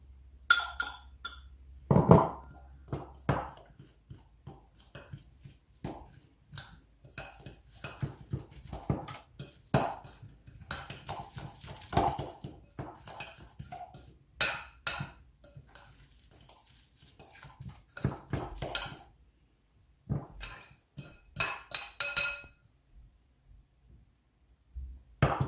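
Egg and grated Parmesan cheese being stirred in a bowl with a utensil, a long run of scraping strokes and light clinks against the bowl in an irregular rhythm, close and fairly quiet, with no talking.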